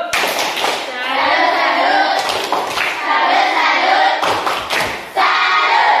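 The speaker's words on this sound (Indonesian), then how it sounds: "Kelompok 3, coba tepuk salut." Students in a classroom group perform a rhythmic 'tepuk salut' clapping chant, sharp claps in patterned bursts mixed with children's chanting voices, close and lively with short pauses between phrases.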